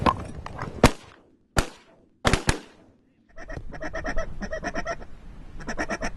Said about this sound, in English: Oh, there's duck.